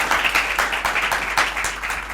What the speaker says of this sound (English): Alright, so huge round of applause for Arjun Rampal and Jacqueline Fernandez.